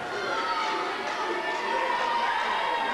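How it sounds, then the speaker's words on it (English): A basketball crowd roars in a tense grand final, dense sustained cheering and chatter filling a packed arena, with a commentator talking over it. "The crowd's going mad."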